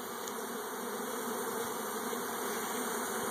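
Dense, steady buzzing of a honey bee swarm during capture, close and continuous with no talk.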